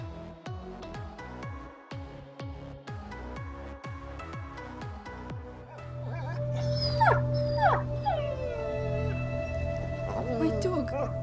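A video game dog yips and whimpers in short, evenly spaced cries, then breaks into a longer wavering howl and whines beneath a low droning game soundscape as voices speak over it.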